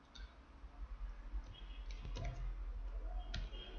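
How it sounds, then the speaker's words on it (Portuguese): A few soft, close clicks and taps of typing on a computer keyboard while entering text into an Excel 2019 spreadsheet, with low room noise underneath. "Mas eu vou digitar aqui só para você perceber."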